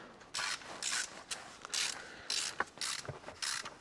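Ratchet wrench tightening the starter motor bolts on a BMW 320D from underneath the car, a quiet series of rhythmic clicking bursts repeated in short strokes, close and alone.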